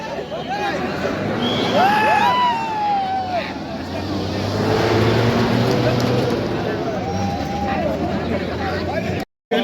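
At a fire drill, a fire engine arrives with a sweeping siren wail early on, set against vehicle rumble, crowd noise and people talking.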